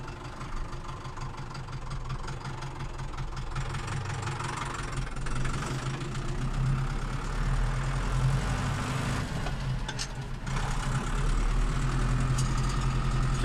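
A Zetor tractor engine, a Zetor 8011 model, runs steadily while driving, a loud low throbbing drone with a knocking rhythm, constant throughout with brief dips and no talk.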